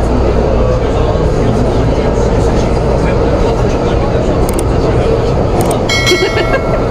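A Taipei MRT train ride fills the space with a loud, steady rumble and rolling hum, constant from start to finish, with brief high squeaks late and voices faintly present.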